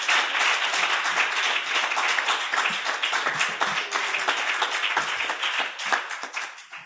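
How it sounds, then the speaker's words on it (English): An audience claps after a lecture in a dense, sustained round of applause, close and fairly loud, tapering off at the end. "I want a round of applause for you."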